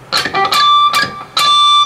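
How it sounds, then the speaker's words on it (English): A distorted electric guitar picks a few sharp notes as pinch harmonics, each ringing with a high, squealing overtone, close and loud. "get a pinch harmonic on the 12G."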